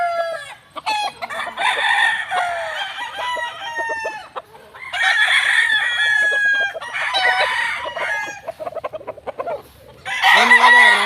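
Sambuanga gamefowl roosters at a game farm, several bursts of loud, close crowing and clucking from multiple birds overlapping in waves, with short quieter gaps between calls.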